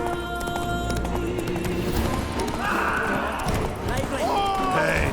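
Roach, the horse in The Witcher 3, gallops with quick rhythmic hoofbeats and a whinny, while someone shouts over the action and game music plays.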